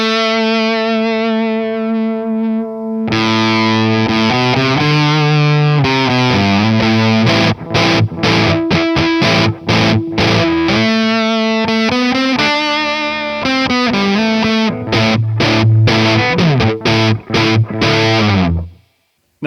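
A foldable electric guitar runs through fuzz and drive into a JTM Studio amp, sustaining a loud, saturated chord after a brief quieter note, then breaking into choppy, stabbing distorted riffs before stopping.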